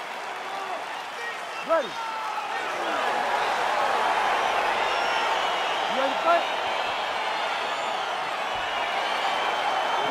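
Arena crowd noise in the fighting game EA Sports UFC 4 as a bout gets underway, a steady broad roar of cheering and applause running throughout beneath a referee's voice speaking.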